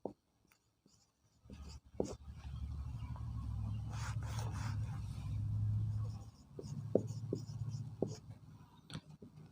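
Chalk or marker scratching and rubbing on a classroom board during a physics lesson, in sustained strokes and short taps, fairly close, with a brief voice near the end.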